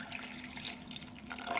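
Water runs into a pressure cooker holding lentils, a soft, steady splashing pour heard close but faint, ending slightly louder, with no voices.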